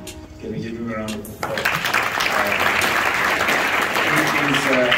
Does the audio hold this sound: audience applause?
yes